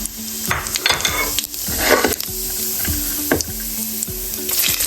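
Garam masala and salt sizzle in hot oil in a pan, a steady frying hiss broken by several scraping stirs, close and alone without talk.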